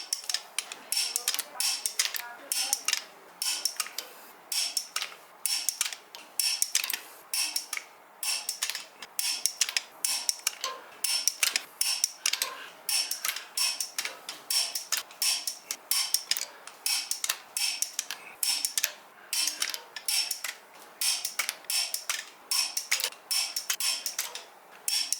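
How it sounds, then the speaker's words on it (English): A torque wrench ratchets as cylinder head bolts are tightened to final torque on a Chevy 372 engine build, a long run of close, rhythmic metallic clicks in repeated bursts. "Stepped up to a bigger torque wrench. Going to 80. This is the final torque setting."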